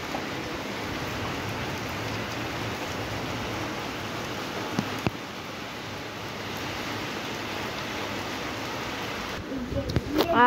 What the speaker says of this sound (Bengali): দেখো কারণ বাইরে বৃষ্টি পড়ছে